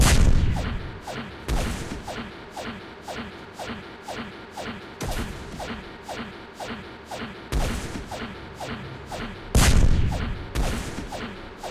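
Planetary bombardment in the Master of Orion strategy game, repeated heavy explosive blasts in waves roughly every two seconds, each a loud burst fading into rumbling debris, with faint rapid crackling throughout.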